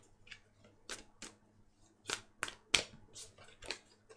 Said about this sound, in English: I can't shuffle today.